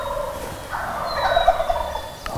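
A wild turkey gobbles in the New York mountains, a rapid rattling burst heard at a distance over steady outdoor background noise, with no talk.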